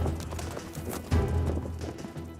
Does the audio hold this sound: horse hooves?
yes